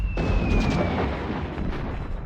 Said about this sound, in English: We've got the cannon fire coming in.